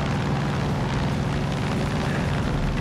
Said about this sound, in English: it actually affects the way the plane flies as well